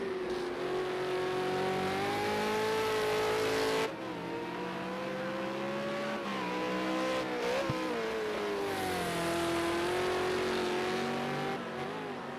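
A V8 Supercar races on track during qualifying at Ruapuna Park, its engine loud and continuous, rising and falling through gear changes with sharp lifts and downshifts into the final corners, then pulling hard onto the straight.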